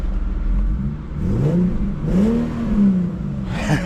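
A small car's engine idling at a used-car lot with its rough, uneven rumble held steady and close, with brief rises in pitch like light throttle blips.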